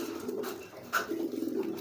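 A pigeon coos softly at close range in a few short, low murmuring calls, a young bird still in its nestling feathers.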